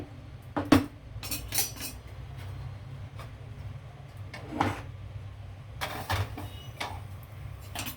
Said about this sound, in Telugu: దీన్ని మనం ఇప్పుడు సర్వింగ్ ప్లేట్లోకి తీసుకుందామండి